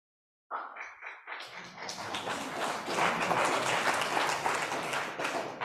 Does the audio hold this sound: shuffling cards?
no